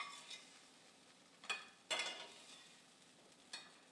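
Salmon patties lifted off a frying pan onto a plate, giving a few sharp scrapes and clinks of a utensil at intervals over a quiet, faint background sizzle, with no talking.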